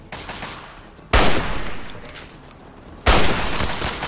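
Two loud bursts of gunfire from the companion Jericho in Fallout 3, shooting at a radscorpion, each a sharp crack followed by a noisy, decaying rumble, about two seconds apart.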